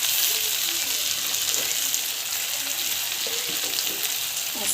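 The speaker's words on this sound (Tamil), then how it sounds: "டொமாட்டோ ஆட் பண்ணிவிட்டு இதுவும் கொஞ்சம் நேரம் வதங்கிட்டோம்." Chopped tomatoes sauté in a hot pan with softened onions, giving a steady, bright sizzle that holds evenly throughout with faint stirring knocks.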